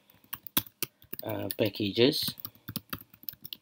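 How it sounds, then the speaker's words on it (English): Rapid typing of Python code on a computer keyboard, with sharp irregular key clicks close up, briefly paused while a person speaks, then resuming in quick bursts. "So let us type the code"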